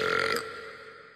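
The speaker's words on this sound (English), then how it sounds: "It's how I feel when I burp really loud in an underground parking structure to assert my dominance." A loud, short burp from the Family Guy cartoon, a single throaty belch lasting under half a second that trails off into a faint reverberant tail.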